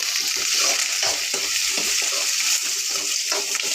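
Carrot and tomato sizzle loudly in a hot pan, a dense continuous frying hiss broken by several stirring scrapes, close up with no talking.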